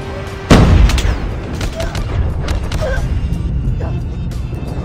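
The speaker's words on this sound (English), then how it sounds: "Airstrike incoming." Airstrike explosions in a multiplayer shooter game: a sharp, loud blast lands near the start, followed by a dense, rumbling barrage of booms and crackling gunfire that continues steadily to the end.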